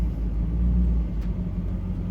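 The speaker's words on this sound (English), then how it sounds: "We're moving this truck" A truck idles or creeps close by in a steady low rumble, with no voices over it, as it gets moved.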